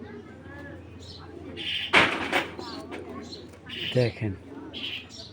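A female racing pigeon gives soft coos in short bursts close by, partly covered by someone talking, with a couple of sharper knocks along the way.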